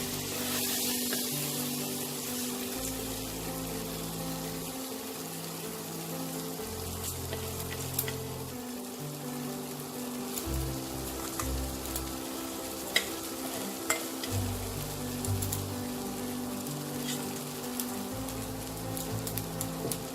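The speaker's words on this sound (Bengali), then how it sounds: "এবার এই চাল ডালটাকেও আমি খুব ভালো করে ভেজে নেব।" Washed rice and lentils fry and get stirred in a pan for Bengali bhuna khichuri, giving a steady close sizzle with scraping spoon strokes throughout and no talking.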